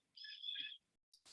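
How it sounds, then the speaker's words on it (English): Birds chirp outdoors, one faint, high, warbling call lasting most of a second, followed by a brief, soft chirp and another short burst. "He hears those birds."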